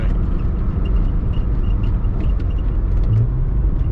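A twin-turbo Subaru engine with a GT35 turbo pulls along a mountain road, giving a steady, close, low rumbling drone that holds without a break and has no voices over it.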